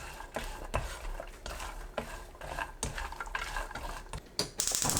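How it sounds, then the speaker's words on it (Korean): Potatoes are stirred with cooking oil and perilla oil in an unheated pan, making close, busy scraping and shuffling with soft clatters of the utensil on the pan, slightly uneven in rhythm, ending in a brighter burst of noise. "불 켜지 않은 팬에 감자, 식용유 1큰술, 들기름 1큰술 넣고 섞어주세요."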